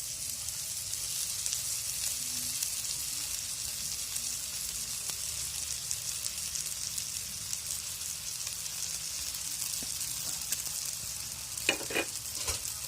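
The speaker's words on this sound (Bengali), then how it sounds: "এবার এর ভেতরে নুডলস গুলো দিয়ে দেব।" Egg noodles being stirred in a frying pan, with a steady soft sizzle and faint scraping of the utensil throughout, a few sharper clinks near the end, no talk.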